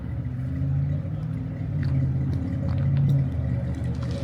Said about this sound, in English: Boy, that thing sounds so good. And that's an Oldsmobile motor. This is what she sound like